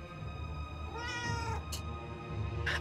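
A winged Pegasus cat in the video game Forspoken lets out a clear, close meow with a drawn, wavering tone over a steady game ambience, followed by brief soft noises.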